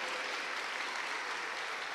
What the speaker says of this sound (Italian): Facciamo ancora un grande applauso